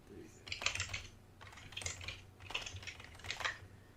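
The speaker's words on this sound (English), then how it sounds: "Typing some passwords here." Quiet computer keyboard typing of passwords, coming in four quick clusters of clicky keystrokes separated by short pauses, close and alone.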